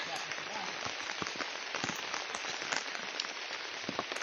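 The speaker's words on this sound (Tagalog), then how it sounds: "Umuulan." Steady rain patters across a surface on a slippery, muddy mountain path, dense and continuous, with scattered sharper drops standing out.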